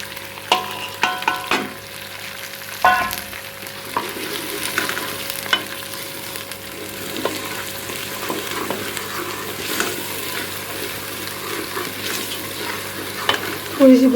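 Dry spices (cumin, garlic, red chilli, salt and turmeric) sizzle in hot oil in a pan while a spoon stirs and scrapes, giving a steady fry with irregular metallic knocks and clatters, close up and with no talking.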